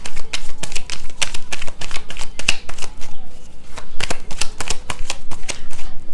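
Tarot cards shuffled by hand in a steady run of crisp riffling flicks, close and clear, with no talking.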